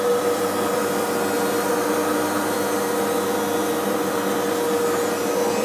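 A thicknesser takes a 2 mm cut across a highly figured timber board, giving a loud, steady machine roar with a constant whine that holds evenly for the whole stretch, no talk over it.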